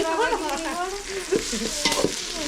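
Mustard seeds frying in hot oil in a home kitchen, a steady crackling sizzle with stirring and occasional sharp pops, close and fairly loud.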